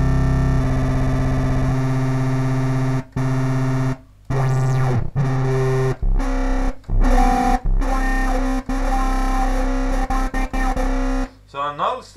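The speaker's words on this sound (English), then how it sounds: "So I can actually make some kind of a screechy sound." Screechy distorted synthesizer with resonance in Cubase 10 Pro, loud buzzing tones with sweeping pitch glides in choppy bursts broken by short gaps.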